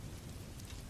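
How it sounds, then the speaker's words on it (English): Rain patters steadily against window glass in a quiet Gotham night, a soft, even wash of drops with no voices. "Batman watched the raindrops trace silver paths across the glass."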